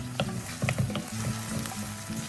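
Whole black peppercorns and cloves sauté in a pan for a spicy chicken leg fry masala, giving a moderate steady sizzle over a low hum, broken by a few light clicks and stirring taps, with no talking.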